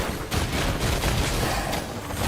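A loud, continuous volley of gunfire in Genshin Impact, dense crackling shots packed together across the whole stretch with no pauses or voices.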